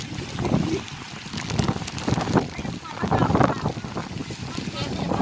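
Steady rain patters and hisses with gusty rumbling over a salad vegetable garden during harvest, while a person talks intermittently over it.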